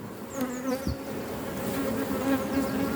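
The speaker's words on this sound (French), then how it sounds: "il y a pas mal d'abeilles" Honey bees buzz close around a hive in a steady droning hum, with individual bees zipping past the microphone.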